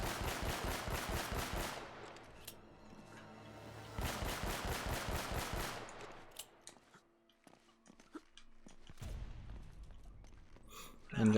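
Gunfire from the video game Uncharted: Drake's Fortune comes in two loud bursts of rapid automatic shots, followed by scattered quieter shots and clatter and another burst near the end.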